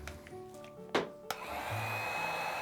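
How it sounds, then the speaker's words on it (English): A heat gun blowing onto fluid art paint in an open cup pour, a steady airy whoosh that rises after a couple of sharp clicks and carries on at a moderate, even level. "Let me try with the heat gun first."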